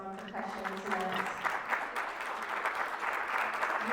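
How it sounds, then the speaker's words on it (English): Audience applause for percussionist Brad Williams at a poetry and percussion performance, clapping swelling in after a brief moment of speech and continuing steadily to the end. "Please give a round of applause to Brad Williams on percussion tonight."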